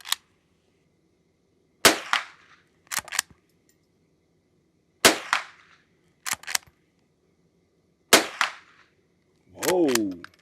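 Henry H001 lever-action rifle firing Blazer bulk ammunition outdoors, six sharp, loud shots spaced a second or two apart, each with a brief echoing tail, ending in a rising whoosh.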